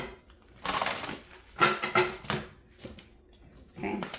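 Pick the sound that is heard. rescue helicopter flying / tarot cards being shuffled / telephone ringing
tarot cards being shuffled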